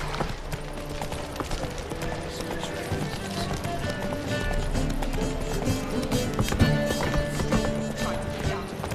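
Rapid hoofbeats of a horse galloping in The Witcher 3: Wild Hunt, a steady loud clip-clop running throughout with occasional whinnies and game sounds layered on top.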